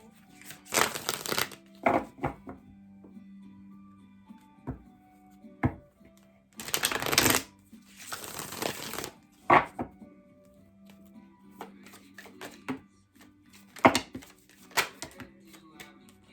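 Tarot cards are shuffled and handled in irregular bursts, with crisp riffling and slapping noises broken by quiet pauses, close and fairly loud.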